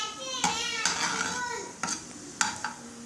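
Stirring sabudana khichdi in a pan: a soft scraping clatter of a spoon against the pan with several sharp metallic knocks, close and fairly quiet, over a faint sizzle.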